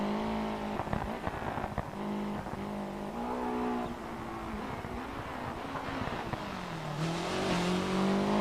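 A rally car's engine in a racing video game holds steady revs, then drops and climbs again through a handbrake turn in a hairpin, the tone sweeping up and down over gravel-like tire noise, loud and close throughout.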